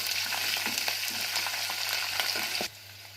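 Green chillies and curry leaves frying in hot oil for tomato chitranna, a close crackling sizzle with scattered pops and stirring scrapes that drops to a quieter hiss near the end.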